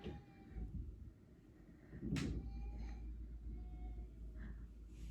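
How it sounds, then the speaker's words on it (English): A door is shut once indoors, a single firm thump partway through with a low steady room hum continuing after it, no talking. "My husband shut the door."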